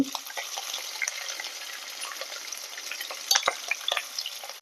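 Ginger and green chillies frying in a pan with curry leaves: a close, crackling sizzle with scattered sharp pops, briefly busier toward the later part.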